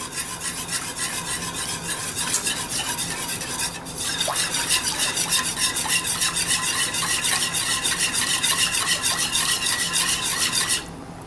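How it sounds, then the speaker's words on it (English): A whisk scrapes rapidly and steadily through heavy cream poured into melted butter in a pan for an Alfredo sauce, a close, continuous rhythmic rasping that grows slightly busier partway through, with no talking. "Next thing I'm going to add is 2 cups of heavy cream. And I'm going to whisk that together."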